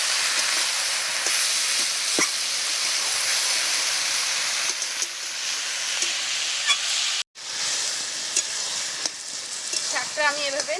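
Spinach and egg fry in oil in a pan, a loud continuous sizzle and hiss with occasional stirring scrapes and brief crackles, close and steady for the whole stretch, broken only by a momentary cut.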